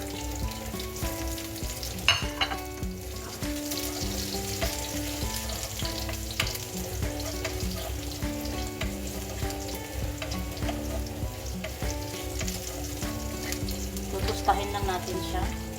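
Garlic sizzles and crackles steadily in a hot pan as it is stirred, with occasional utensil scrapes and clinks over a continuous close frying hiss, and background music playing throughout.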